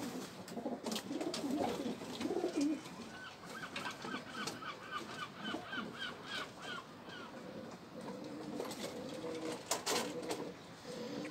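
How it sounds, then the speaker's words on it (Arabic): Pigeons coo in a dove-keeping setting, soft repeated calls rising through a steady mix of other birds such as crows, moderately near, with no talking. "ها انت الحمامه شنو داير لها دابا"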